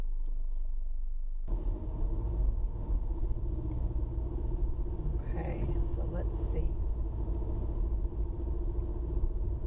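A car engine drones with a steady low rumble throughout while a voice speaks briefly over it; the car is making an unexplained odd noise while driving through Kenosha, Wisconsin.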